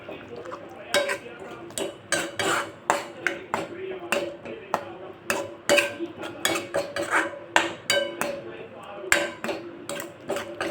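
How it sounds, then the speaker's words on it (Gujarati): Spiced yogurt being stirred into a curry in a pan, a spoon scraping and tapping against the metal in quick, repeated strokes, close and fairly clear. "હવે આપણે જે દહીંમાં આપણે મસાલા મિક્સ કર્યા હતા એ એડ કરી દઈશું ને હવે આપણે ગેસ ધીમો કરી નાખશું અને ફટાફટ આપણે હલાવી લેશું"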